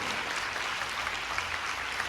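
A church congregation applauds strongly, a short, steady burst of dense clapping at moderate volume with no clear pauses.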